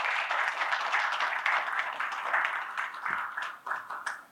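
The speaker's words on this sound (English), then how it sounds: "Please welcome him with a round of applause." An audience at a retail business panel in Pune claps steadily to welcome a panelist, a dense even patter that thins toward the end.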